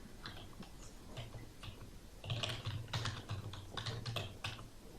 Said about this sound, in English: I think that this wireless keyboard is losing power.